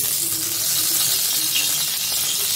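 Whole cumin and a bay leaf go into oil left over from frying fish, giving a dense, even, close sizzling hiss that holds steady throughout.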